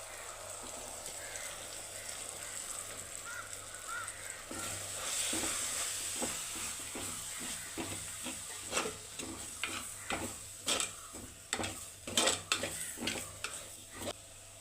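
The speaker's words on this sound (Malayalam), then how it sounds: "ഇത്രയും പൊടികളും കൂടെ നമുക്ക് അതിലിട്ട് വഴട്ടിയെടുക്കാം" Pepper powder and spices for a sardine curry are sautéed in a pan: a soft, steady sizzle, then a rhythmic series of scraping stirs that grows busier and louder toward the end, close by.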